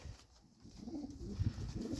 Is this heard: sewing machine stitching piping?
no